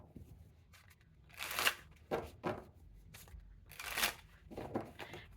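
Tarot cards are shuffled by hand in a few quick riffling bursts with soft handling noises between them, close and quiet, with no talking.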